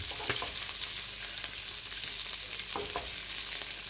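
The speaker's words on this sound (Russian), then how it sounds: "Сколько сторон у рыбки, со всех сторон обжариваю" Fish sizzling steadily in hot oil, a constant broadband crackle with a few sharper spatters and clinks of a utensil against the pan.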